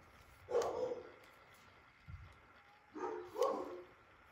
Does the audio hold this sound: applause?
no